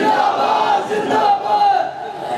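A large crowd at a Pakistani religious gathering chants slogans in unison, a loud, continuous roar of massed voices with rising and falling swells and a held tone, no single speaker standing out.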